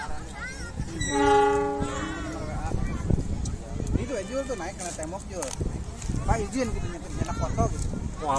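A CC206 locomotive at Garut station sounds a loud, sustained horn blast with stacked tones for about a second, then people talk nearby over station bustle and engine rumble.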